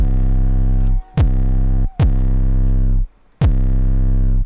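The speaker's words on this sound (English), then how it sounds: "Now we're using distortion." A heavily distorted 808 bass made in Ableton 11 plays as loud, sustained, buzzing low notes with a gliding pitch. Four notes are separated by brief gaps, each starting with a sharp click, and nobody talks.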